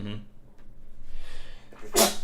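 A single sharp sneeze bursts out near the end, loud and close, following quieter breathing and faint background talk.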